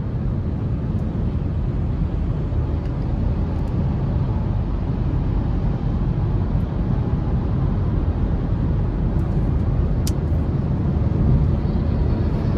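A 2024 Buick Encore GX ST with a 1.3-liter turbo engine accelerating, heard from inside as a steady broadband rumble of engine and road noise with no clear rise in pitch.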